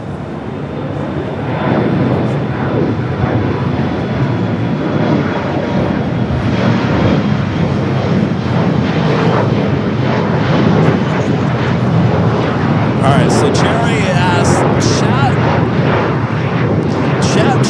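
British Airways Boeing 777-300ER arriving at Los Angeles airport, a sustained loud jet roar that rises early and holds steady throughout, with voices talking over it.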